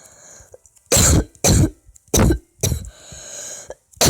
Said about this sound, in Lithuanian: sorry už kosėjimą